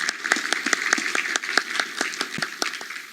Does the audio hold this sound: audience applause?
yes